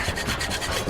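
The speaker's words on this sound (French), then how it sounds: "Notre ami Gordon scie un cadenas" A padlock being sawn, a steady rasping back-and-forth stroke repeating about every tenth of a second, loud and close with no voices.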